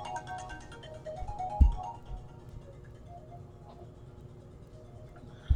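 A phone ringtone plays softly as a repeating melodic chime pattern in a quiet room, faint and steady, with a couple of brief handling thumps.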